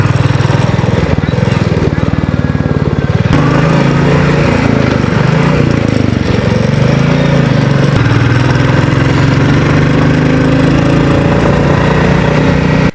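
A motorcycle engine drones loudly and continuously while riding on the NH 10 mountain highway toward Gangtok, a steady close rumble with slight pitch shifts as the rider changes speed, and the rider speaks over it.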